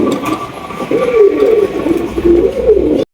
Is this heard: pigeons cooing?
yes